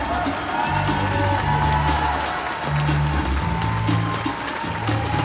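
A large theatre audience in Melbourne greets William Shatner with loud, sustained applause and cheering, a dense continuous roar of clapping and shouts that holds steady throughout.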